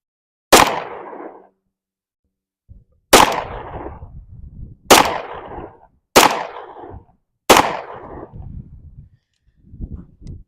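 Five loud gunshots fired outdoors on a windy range with a rifle wearing an AimWin PN320 red dot sight, each sharp crack decaying quickly, spaced irregularly with quiet gaps and faint rustling between.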